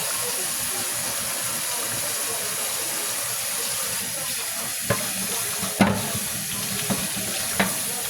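Liquid running off into a kitchen sink as food is drained, a steady wash of water noise with a few brief clinks and taps near the end.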